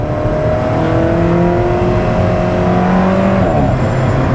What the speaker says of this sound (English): The car is super loud in dynamic mode.